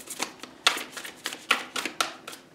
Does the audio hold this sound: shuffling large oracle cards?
yes